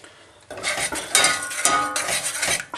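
A spoon stirs a spice powder mixture for Kashmiri masala paste in a pan, scraping and clinking against the metal in brisk bursts after a quiet start, close and clear with no voices.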